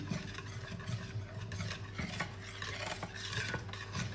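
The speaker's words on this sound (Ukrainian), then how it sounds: "І вінчик в мене такий, який є, і перемішую." Fresh milk whisked with a whisk, a quiet, steady scratchy swishing of wire against the bowl with faint clinks, close and continuous.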